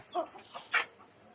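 Desi chickens clucking in a poultry-rearing setup, a few short separate clucks close by, one sharper call near the middle, with quiet gaps between.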